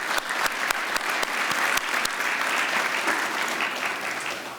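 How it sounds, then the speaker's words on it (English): Steady audience applause fills a kickoff celebration on Chicago's South Side, with a few sharp, close claps standing out from the dense, even clapping that holds throughout. "Can we give them a round of applause?"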